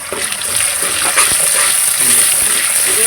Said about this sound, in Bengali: এবারে দিয়ে দিব আমি ওই যে মরিচের পেস্টটা রেখেছিলাম ঝালের পেস্ট এটা